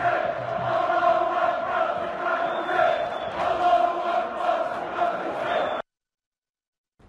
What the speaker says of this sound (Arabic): هذا هو هتاف الجمهور المنحط السخيف الوقح الذي لا يموت إلى الإنسانية بشيء